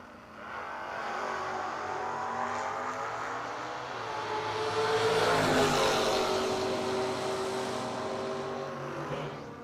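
A Camaro and an S10 launch down a drag strip at a No-Box 660 shootout, their engines roaring and rising in pitch as they pull away, swelling louder toward the middle, then easing off at a distance.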